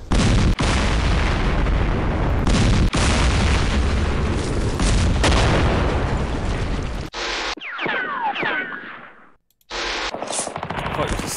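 Mortar and artillery fire in the Campaign Series wargame comes as dense, loud bursts of booming explosions and rapid gunfire, dropping out briefly toward the end before a final burst resumes.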